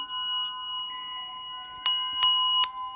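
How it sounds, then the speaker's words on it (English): A small hand bell is rung three times in quick succession, each bright, clear strike ringing on over a faint sustained tone in a quiet room. "And let me ring a bell here for good energy."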